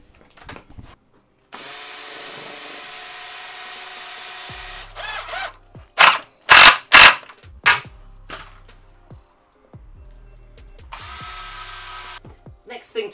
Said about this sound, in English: Get the pilot in, do you want your drill?